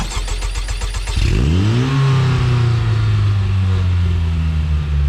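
An Ariel Atom 4 engine fires up after a stretch of idling and climbs into a loud, close rev that holds as a sustained high drone to the end, driving through Somerset countryside.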